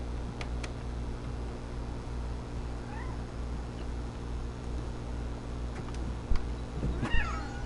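A cat meows a few times in the game What Remains of Edith Finch, short soft calls near the end over a steady hum of ambient game sound.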